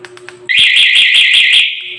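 An alarm on a Rusi Mono Swish motorcycle blares loudly up close, a piercing pulsing electronic siren that cuts in abruptly after a few faint clicks and holds for over a second before tapering.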